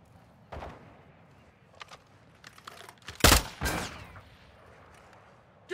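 Gunfire in Call of Duty Warzone DMZ comes as a few scattered distant pops, then two loud close cracks in quick succession with ringing tails, over faint background noise.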